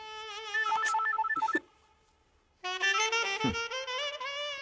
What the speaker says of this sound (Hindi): बचने दो ना। इंपॉर्टेंट कॉल हो सकता है जान।